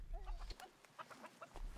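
A chicken clucking close by in a rural yard, a few quick rising and falling clucks in a short burst.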